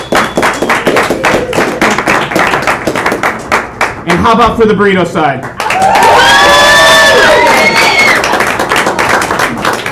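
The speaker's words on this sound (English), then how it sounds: "let's hear a round of applause." A studio audience claps and cheers loudly at a live taco-versus-burrito debate show. A host speaks first, then sustained applause with whistles and shouts fills the second half.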